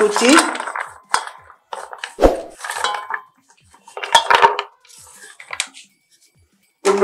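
Pumpkin pieces go into a bowl while a prawn chachori is prepared, making a string of close, sharp clinks and clatters separated by short quiet gaps.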